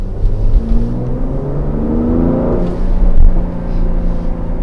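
A 2020 Mercedes GLC 43 AMG Coupe with a 9G-tronic automatic transmission accelerates, and its loud, close engine drone rises in pitch, dips and climbs again as the gears shift, with no voices.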